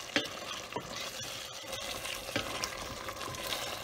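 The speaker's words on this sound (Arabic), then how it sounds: "من بعد ما اللحم تشحر مزيان" Meat browning in oil in a pot for a Moroccan artichoke tajine, a steady close sizzle and frying crackle with occasional stirring clicks and scrapes, no talk.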